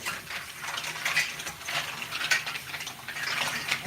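Mussels rattle and clink under running water while being rinsed, a soft, faint trickle broken by light clicking shell knocks in uneven bursts, without any talking.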